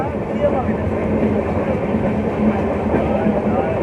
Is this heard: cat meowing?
no